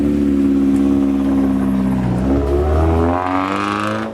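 A Subaru STI with a 2.5 engine and stock exhaust revs loudly at a car meet, the engine note climbing steadily in pitch before easing off at the end.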